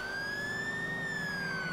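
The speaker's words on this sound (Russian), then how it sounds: "Ника еще и сирену включил, молодец." A police car siren in the video game GTA IV wails continuously with one slow rising-and-falling tone, loud and steady over a low engine hum, with no speech.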